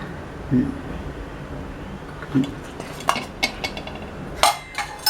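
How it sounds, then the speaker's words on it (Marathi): A metal kadhai clinks and clunks onto a stove in a home kitchen, with a few sharp metallic knocks and scrapes spaced over the moment against a steady low room hum. "कढई पहिले आपण ठेवली तापायला"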